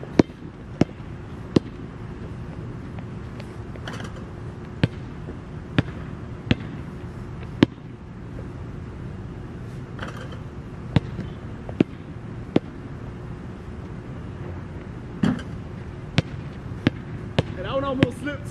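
A basketball bounces on a wet court during a quick shooting workout. The bounces are crisp, evenly spaced thuds that repeat through the clip over a steady background hum.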